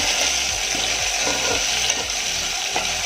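Chopped tomato fries in a hot pan over high flame for a Gujarati ridge gourd sabzi, a loud, continuous sizzle with faint stirring scrapes underneath.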